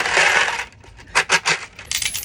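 Coins spill out of an opened coin bank: a loud metallic clatter, then several sharp, separate clinks as the last coins drop and settle, close by, with no voices.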